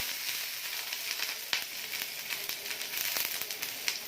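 Ginger and garlic fry in a hot pan for a green chicken gravy, giving a steady close sizzle with scattered crackles and pops and no voices.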